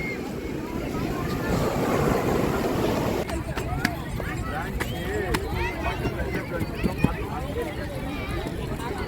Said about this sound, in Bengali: এই দেখো ঢেউগুলো হেভি লাগছে।